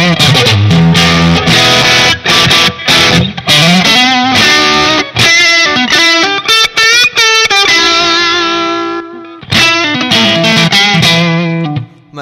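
An electric guitar plays a run of strummed chords and sustained notes through a Line 6 Pod HD500 boost compressor on a Hiway 100 amp model, a boosted, compressed tone with a slight gritty edge.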